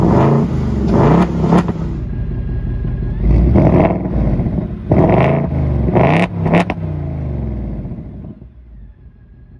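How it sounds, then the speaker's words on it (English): A 2024 Ford Mustang GT revved by its remote rev function, giving several quick sharp blips of the engine close by, each settling back to a steady idle before fading near the end. "Gave a little rev, nothing too crazy, just a little quick fast rev."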